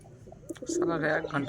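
Pigeons coo in a low, throaty rolling call that swells partway through, close by, after a few faint shuffling sounds.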